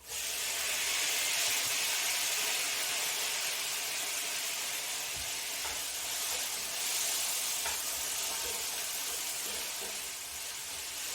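Ackee and saltfish with tomato sizzle steadily in a pan, a constant soft hiss of frying that stays even and unbroken throughout, with no talk over it.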